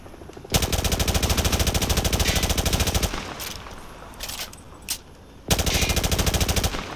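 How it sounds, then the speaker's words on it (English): An automatic weapon fired from the hip at range targets, loud rapid bursts of gunfire, a long stream of shots, a pause with a few scattered reports, then another sustained burst. "Grab that weapon off the table and fire at the targets behind you."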